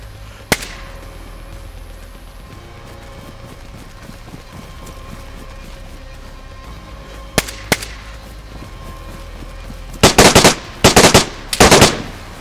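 Gunshots in the DayZ video game: a few isolated sharp cracks early on, then three loud rapid bursts of automatic fire close together near the end over a quiet background.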